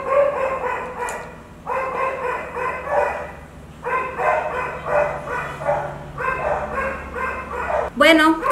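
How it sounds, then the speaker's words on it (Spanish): A dog barks insistently indoors in a loud, rapid series of bursts with short pauses, close by, then a higher yelp at the end; no one speaks. "No me interesa que el perro esté ladrando."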